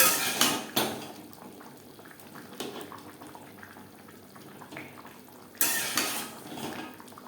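Potatoes tumbling into a pot of simmering mutton curry over a high gas flame, with bubbling liquid and a few sharp clatters against the pot at the start and again near the end.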